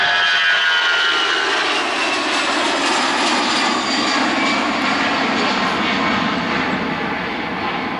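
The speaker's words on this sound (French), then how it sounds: "Je pense que c'est ça, c'est l'avion de NAV Canada." A jet airliner's engines roar steadily at Montreal airport, a broad, loud whooshing rumble with a high whine on top, sustained throughout and fading slightly at the end.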